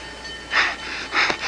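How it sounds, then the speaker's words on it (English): A train passes at a distance, two broad swells of rumble and hiss rising from a steady background wash, with no voices. "It's a train."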